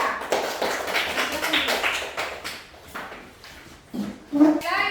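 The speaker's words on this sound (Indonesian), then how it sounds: "Kita beri tepuk tangan dulu untuk kelompok 3" A classroom of students claps for a presenting group, a quick run of uneven, fairly close hand claps that thins out, with voices in the room and a few louder claps near the end.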